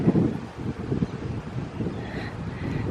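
Breezy wind outdoors at a Florida home with a pool during Hurricane Debby, buffeting the microphone in uneven low rumbling gusts, moderately loud and with no talking.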